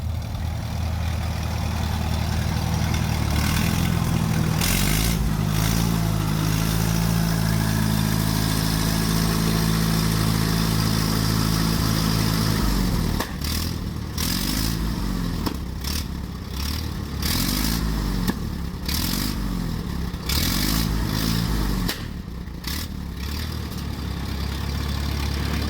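A 1974 Dodge V8 diesel semi tractor engine rumbles loudly and close, idling with a clattering beat and then revving in uneven bursts.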